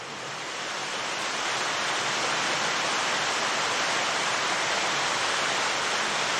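Water cascades over rockwork at a Versailles fountain, the stones held with copper wire and no mortar, giving a steady, loud, broadband rush that stays constant throughout with no voices.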